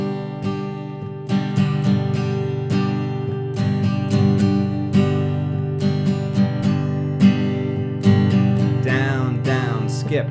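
An acoustic guitar plays a strumming pattern smoothly and evenly, with rhythmic down and up strokes repeating steadily for about ten seconds, close and full, with no talking.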